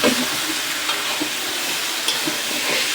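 Bottle gourd pieces are stirred with spices in a frying pan, giving a steady close sizzle with soft scraping strokes of the spoon throughout.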